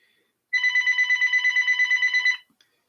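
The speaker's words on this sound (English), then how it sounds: "someone's calling" Incoming telephone call heard as a loud electronic ring trilling in a fast, even pulse for about two seconds, close by and alone, before stopping abruptly.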